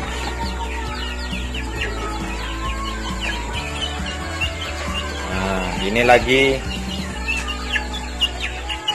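Chickens cluck and chirp steadily in an enclosed rearing coop, with a rooster-like call rising midway and someone speaking briefly over the flock.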